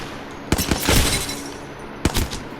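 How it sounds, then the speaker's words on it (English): Hemlock rifle in Apex Legends fired on single-shot mode: a cluster of sharp, loud, close reports with rattling tails, then a pause and another distinct pair of shots. "I prefer the Hemlock on single fire because it's single fire. I can really just put bullets down range"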